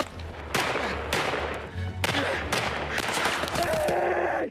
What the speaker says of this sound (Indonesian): sebuah kendaraan tank tentara Jerman memberikan serangan bertubi-tubi terhadap Sersan Greg